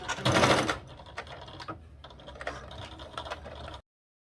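A sewing machine stitches the raw edges of a fabric pouch for essential oils, starting with a brief loud whirring burst and then fading into quieter intermittent clicks and taps of the mechanism.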